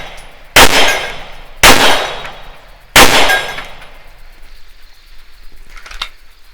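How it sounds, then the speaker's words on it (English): Three sharp 9mm pistol shots firing Federal Syntech 150gr low recoil ammunition under a shelter house, each a loud crack with a ringing decay, evenly spaced about a second apart, followed by a faint metallic clink. "I'm just going to take 5 shots here just to kind of get the feel of the first 5 shots of this low recoil ammunition"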